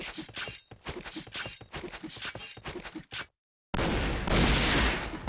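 Rapid bursts of video game gunfire crack in a steady rhythm of repeated shots, loud and close, then cut out briefly before a dense roaring blast of sustained fire.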